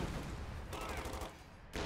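Machine gun fire in the real-time strategy game Company of Heroes 2, as Panzer Grenadiers fire a captured machine gun: dense, loud rattling bursts with brief gaps, heard alone with no talk.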